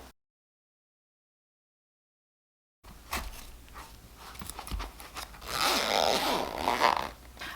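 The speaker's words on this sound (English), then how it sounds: "So now the next step here is to thread on the zipper pull." After a silent gap, close scratchy rasping and crinkling as a zipper pull is worked onto the zipper of a waxed canvas bag, growing louder toward the end.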